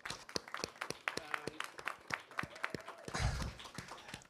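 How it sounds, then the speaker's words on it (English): Faint audience applause at a livestreamed circular economy event, heard as sparse, individual claps spaced out in an uneven rhythm. Near the end the claps thicken into a brief softer wash. "Probably applause."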